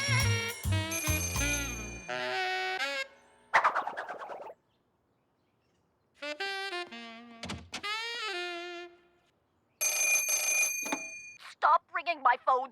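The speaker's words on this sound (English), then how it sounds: "Stop ringing my phones, please." Cartoon telephones ring in a playful animated show, bright bell-like trills and warbling tones coming in bursts with silent gaps, mixed with squeaky cartoon voices.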